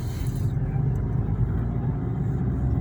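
A car rolls slowly while reversing during a driving lesson manoeuvre, its engine a low, steady rumble held close and even throughout, with no talk.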